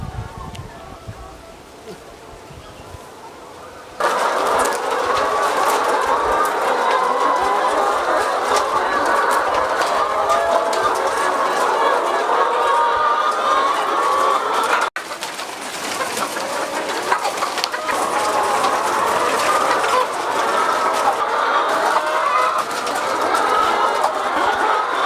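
Chickens cluck and murmur in a busy, continuous flock chorus during rural feeding, steady and fairly loud after a quieter start, with no clear talking.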